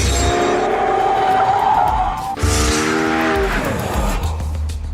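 A Lexus LFA sports car drives hard with a loud, rising engine note that climbs, drops sharply at a gear change, then climbs again, mixed with brief tire squeal.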